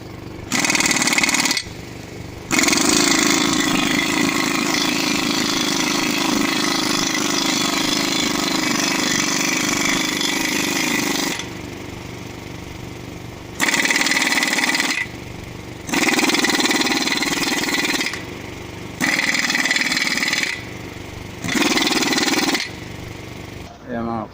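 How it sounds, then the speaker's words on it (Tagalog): Loud impact wrench loosening rusted bolts on collapsed irrigation pivot pipes, running in several long bursts of rattling hammering with short silent pauses between them. "Ginamitan po siya mga kapatid ng impact wrench. Maingay po kanina"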